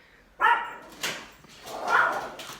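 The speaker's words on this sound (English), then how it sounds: "Dogs." Dogs give a few short, close barks and yips, spaced unevenly over a couple of seconds, with no talking.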